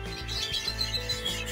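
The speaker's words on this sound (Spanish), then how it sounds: "Y así tengo los pajaritos" Small pet birds fed germinated seed and red pigment food chirp and tweet in quick, light calls, close by and without talk.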